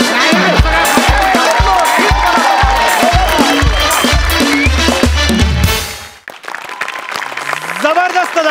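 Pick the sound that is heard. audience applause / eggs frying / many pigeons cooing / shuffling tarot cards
audience applause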